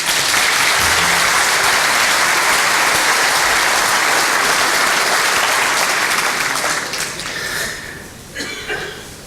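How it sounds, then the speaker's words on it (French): Audience applauding at a New Year's greetings ceremony for local development figures in Sélestat, a loud, dense burst of clapping that holds steady, then thins and fades toward the end, with no speech over it. "On peut les applaudir."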